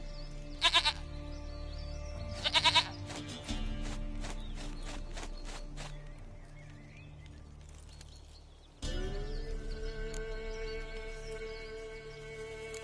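A goat bleats in the video game Witcher 3, with a few short bleats early on over a low steady background, along with clopping hoof-like taps and a sudden louder ambient tone later.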